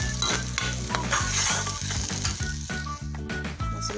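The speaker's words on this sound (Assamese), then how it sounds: "মছলাখিনি আমি অকণমান ভালকৈ ভাজিম" Spices and turmeric paste sizzling in hot oil in a wok for a potato curry, steady close frying crackle with rhythmic stirring scrapes and no talk.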